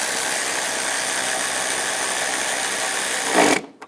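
Power tool whirring steadily while tightening bolts on a 2010-2017 Chevrolet Equinox door, a continuous close buzzing that rises briefly before stopping abruptly, no talking.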